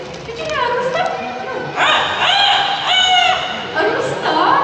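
An Amazon parrot in a Singapore bird park mimics a rooster's crow, producing several loud, close, stretched crowing calls in a row, with crowd noise in the background.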